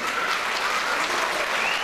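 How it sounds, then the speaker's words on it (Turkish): Audience at a village association night gives a warm round of applause for a football team, a dense, even wash of many hands clapping steadily at full volume with no voices on top. "onlar için bir kez daha alkış istiyorum sizlerden"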